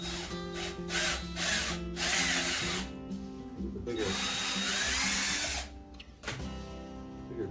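A power drill bores a starter hole into wood for a giant easel, whining loudly in several bursts with brief pauses between them, the motor revving up and down near the listener.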